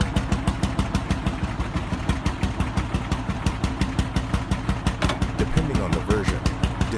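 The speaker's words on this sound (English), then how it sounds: "It is powered by a single-cylinder hot bulb engine, famous for its slow, powerful combustion and distinctive sound" A single-cylinder hot bulb engine on a 1935 Lanz Bulldog tractor runs steadily and loud and close, a slow, even train of heavy thumping beats with metallic clatter over a deep low throb.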